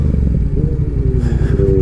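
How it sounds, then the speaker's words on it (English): A Yamaha R7 motorcycle engine rumbles loud and near at a parked venue, a deep throbbing idle with a slight rise in revs partway through. "The bike sounded nice today."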